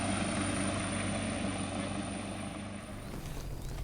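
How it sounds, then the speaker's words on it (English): A rescue helicopter passes over Penang Island with a loud, continuous rotor and engine drone that slowly fades as it moves away. "Oh no. On rescue mission. Not our chopper then."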